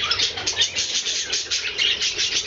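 Small birds chirp in quick, repeated bright tweets, fairly close and continuous over a faint low background hum, with no talking.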